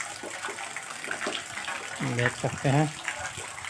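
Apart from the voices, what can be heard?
water gushing from a tap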